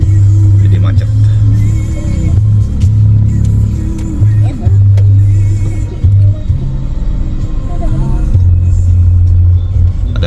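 Congested traffic on a narrow, crowded street in Manila, heard as a constant loud low engine rumble with idling and creeping cars close by, steady throughout with a busy street murmur underneath.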